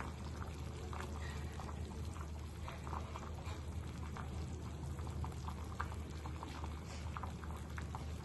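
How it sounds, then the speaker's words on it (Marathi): Dal bubbling gently in a pot on a low gas flame, a faint steady simmer of small bubbles and soft popping with no talk. "डाळ जी आहे आपली थोडीशी गॅस बारीक करून चांगली गदगद पूर्ण व्यवस्थित उकळून घ्यायची आपल्याला"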